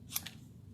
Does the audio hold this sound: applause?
no